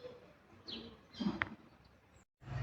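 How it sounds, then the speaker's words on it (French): Gulls calling by a river, a few short separate cries at a moderate distance over quiet outdoor background. "je pense que c'est les goélands"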